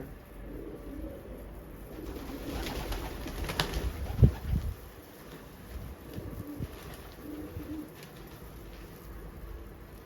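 A pigeon coos softly nearby, low throaty calls rising around the middle, with faint rustling in between.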